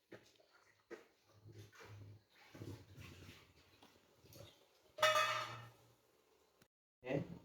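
A dog in a fish cart whimpers and whines in short bursts at close range, mixed with a few soft clatters and faint talking.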